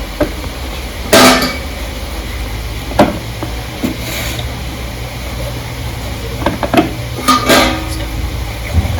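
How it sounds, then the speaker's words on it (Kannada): Tomatoes being cut on a board for a chicken roast, with a few sharp knife taps and clicks, loudest near the start and end, scattered over a steady kitchen hum. "ಟೊಮೆಟೊವನ್ನು ಈಗ ಇದಕ್ಕೆ ಕಟ್ ಮಾಡಿ ಹಾಕ್ತೇನೆ"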